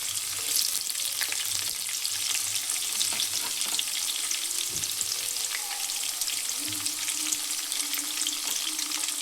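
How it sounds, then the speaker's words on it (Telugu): Two chopped onions fry in a pan over medium flame for a Telugu-style dal rasam with fenugreek leaves, giving a steady, close, even sizzle with faint stirring scrapes and no talking. "మీడియం ఫ్లేమ్లో పెట్టుకొని ఫ్రై చేసుకోవాలి ఫ్రెండ్స్"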